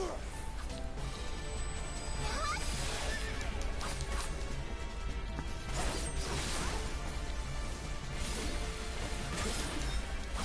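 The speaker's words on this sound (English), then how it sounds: "Is that some kind of horse? It's a kelpie." Kelpie, a horse-like creature in the Final Fantasy XIV game, whinnies amid dense game music, crashes and whooshing effects, with speech mixed into the busy soundtrack.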